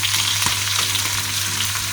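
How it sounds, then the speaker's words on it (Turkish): Loud, dense sizzling of beef oxtail frying in a pan, continuous crackle with occasional stirring scrapes and a low steady hum beneath. "Ben kızartmaya devam ediyorum güzelleri."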